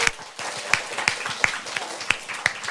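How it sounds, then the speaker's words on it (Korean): A small group claps briefly and unevenly, with a handful of sharp, distinct hand claps fading out within a few seconds. "박수 부탁드립니다."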